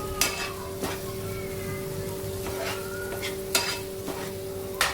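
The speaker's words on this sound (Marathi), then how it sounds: "त्यानंतर पुन्हा एकदा सगळं परतून घ्यायचं" A spoon stirs and sautés potato with onion-garlic masala, goda masala and garam masala in a pan, with a soft steady sizzle and sharp periodic scrapes and taps against the pan, close and alone.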